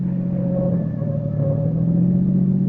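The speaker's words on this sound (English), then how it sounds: "I drove Alan Carlin's car like a reckless idiot, taking every curve as if it was a race course" A car is driven hard along a curving road as a radio drama effect, its engine a steady droning rumble that swells slightly as it pushes on, heard alone without voices.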